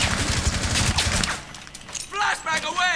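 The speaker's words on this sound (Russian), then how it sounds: "Забавно выглядит, кстати, когда пулеметом херачишь по стене" Rapid machine gun fire hammering a wall in Rainbow Six Siege, a dense burst of shots up front that breaks off into scattered impacts while voices talk over the later part.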